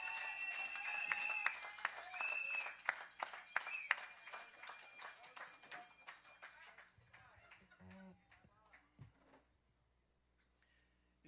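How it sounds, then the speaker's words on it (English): Applause rises at a political party townhall meeting, with scattered claps and a few shouts that thin out and fade as the room settles into quiet murmurs. "Welcome, Sean K. Richards, with a round of applause."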